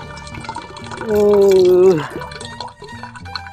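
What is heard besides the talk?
liquid with bleached ramen noodles being poured out, splashing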